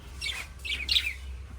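Three quick, high-pitched chirps from small birds, close and fairly loud, with brief pauses between them.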